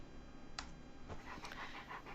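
A dog panting close by, rapid steady breaths throughout the short clip with no talk.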